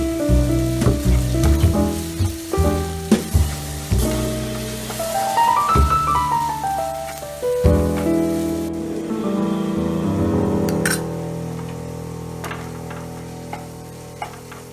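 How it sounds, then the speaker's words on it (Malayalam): Chopped beetroot with salt being stirred in a pan, sizzling steadily with repeated scraping and clinking strokes of the spoon, fairly loud and close, with no talking. "അരിഞ്ഞ ബീട്രൂട്ടും ആവശ്യത്തിന് ഉപ്പും ചേർത്ത് നന്നായി ഇളക്കുക"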